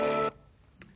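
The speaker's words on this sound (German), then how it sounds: "ich hatte nämlich hier nicht mein Telefon auf leise gemacht" A phone ringing with an incoming call gives a short, bright ringtone burst close by. It cuts off abruptly after a fraction of a second, with a faint trace returning at the end.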